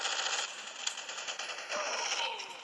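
Rapid SMG fire in a shooter video game, dense bursts of crackling shots running almost continuously at close range with brief gaps between volleys.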